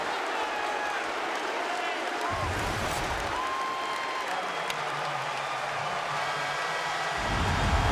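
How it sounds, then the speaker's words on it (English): A college basketball arena crowd, Duke against Virginia Tech, gives sustained applause and cheering after a defensive play, a broad roar that rises near the end while a commentator talks over it. "Crowd appreciates the effort on the defensive end."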